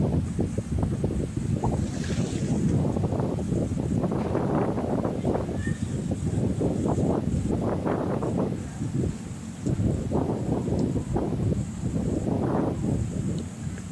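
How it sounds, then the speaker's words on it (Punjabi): Strong wind sweeps across village farm fields of sesame and fodder crops, roaring in repeated gusts that buffet the microphone loudly and continuously, with no talking. "ਹਵਾ ਕਾਫੀ ਤੇਜ਼ ਚੱਲ ਰਹੀ ਹੈ"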